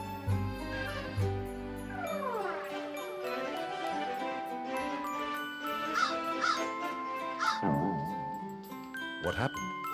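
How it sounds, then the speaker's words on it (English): A crow caws repeatedly amid a tinkling, chiming musical background, harsh calls scattered through the passage, with a low rumble at the start. "Have you not seen a crow before?"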